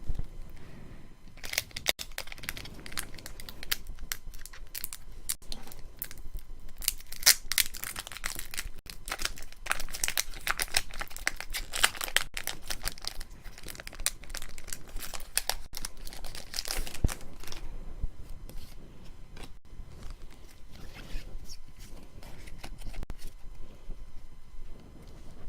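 Pokémon card booster packs being torn open and handled up close, with continuous crinkling foil and paper rustles, small tearing sounds and card shuffling throughout, no talking.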